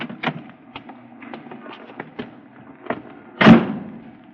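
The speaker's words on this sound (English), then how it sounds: "she opened the door for me" Old-time radio drama effect of a cab pulling up at a curb and a car door opening: a string of soft mechanical clicks and thumps ends in one louder sharp door clunk near the end, with no talking.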